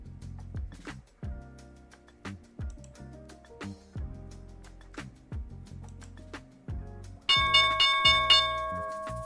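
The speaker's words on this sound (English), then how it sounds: "there's the opening bell" A stock market opening bell rings in a bright, sustained clang toward the end, following a run of sharp ticking knocks and taps.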